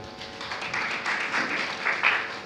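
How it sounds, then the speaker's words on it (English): Applause from a Lions Club gathering greeting members of Akure professionals, a steady wash of clapping hands at moderate distance that swells and fades over a couple of seconds with no voices over it. "Please, a round of applause for them."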